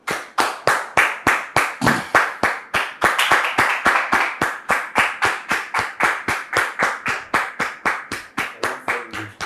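An audience claps at an even, steady rhythm, loud and close, sharp individual hand claps repeating roughly three or four times a second throughout, with no talking.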